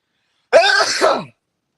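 A single sharp sneeze bursts out, close and loud, lasting under a second, then silence.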